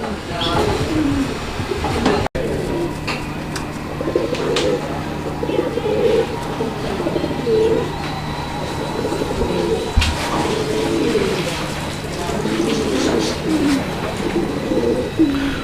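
Pigeons kept for sale coo in repeated, soft, rolling calls that continue throughout at close to moderate distance, while people talk nearby.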